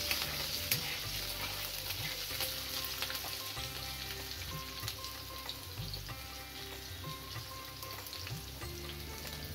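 Cumin seeds, curry leaves and green chillies sizzle steadily in hot oil for a sabudana khichdi tempering, a continuous crackling fry with occasional stirring, close and moderately loud, no voices.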